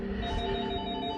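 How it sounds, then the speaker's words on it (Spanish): A telephone with its batteries removed rings continuously, a steady, tonal electronic ring at moderate volume filling the moment without any talk. "Extrañamente el teléfono continúa sonando sin baterías"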